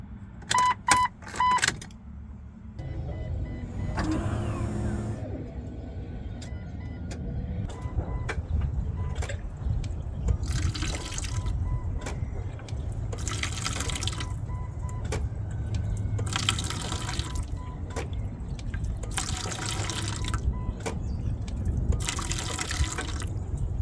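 Fuel from a Jeep Cherokee XJ's primed fuel pump splashes and trickles into a bucket in repeated bursts, each flow running a few seconds with pauses between, steady and close over a low background rumble.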